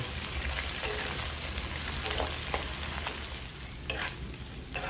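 Thin garlic scapes fry in oil with a dense, rain-like crackling sizzle, steady and close, with occasional soft stirring touches throughout.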